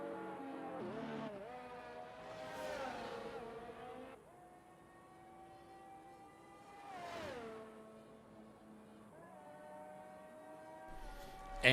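Race car lapping the Saudi Arabia GP circuit in a racing video game: engine revs climb, drop sharply under braking and build again through the corners, a clear close whine with no talk.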